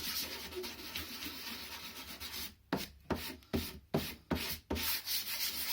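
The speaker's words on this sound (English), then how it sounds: "This is your chance to work it out and sand it down flat." Sandpaper rubs a wooden boardgame box flat. A continuous scrubbing turns into a string of distinct back-and-forth strokes, close and fairly quiet.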